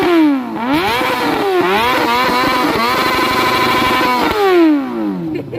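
A Honda CBR600 motorcycle engine revs hard and close, rising and falling through several sweeping bursts of high-pitched revving, loud and alone.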